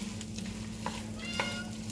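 Soft, steady sizzle of diced vegetables frying over high heat in fat for a bolognese sauce, faint and continuous with a couple of light clinks from stirring, no talking.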